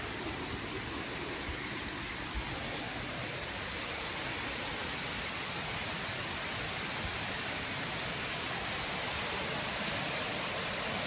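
Steady broadband roar of falling water at Pag-ibig Falls, continuous and even throughout with no voices.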